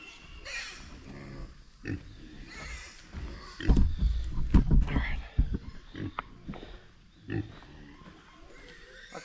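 A pig on a small Tennessee homestead grunts and squeals up close, loud bursts of rough snorting and oinking clustered in the middle, with quieter rustling before and after.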